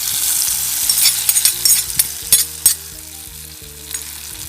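Hot tempering of fenugreek, dried red chillies and curry leaves poured into a ripe mango curry, a loud close sizzle with crackling pops that fade over a few seconds, no talk.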